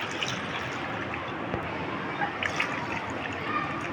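Two glasses of water go into a pot with tamarind and jaggery for chutney, a steady close splashing and trickling wash that runs evenly throughout without pause.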